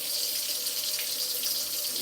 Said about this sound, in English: And we're going to drain these now.